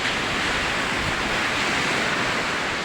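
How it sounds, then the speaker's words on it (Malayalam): Continuous broadband roar of sea surf washing onto the beach at Puthiyangadi, steady and fairly loud throughout with no voices. "കടൽ തിരമാല ഇങ്ങനെ അടിച്ച് വരുന്നുണ്ട്"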